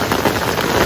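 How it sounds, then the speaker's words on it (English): Heavy rain pounds steadily on a tent during a thunderstorm during flash floods in Jordan, a loud, dense, continuous wash of drumming close overhead. "the rain's back on and the thunder and the lightning, and my tent is about to be breached"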